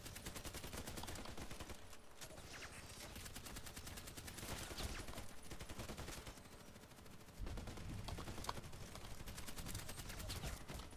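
HK417D rifle in the Contract Wars shooter game firing a dense, continuous stream of shots that stays loud and close throughout, with a brief dip and a sharper burst near the end.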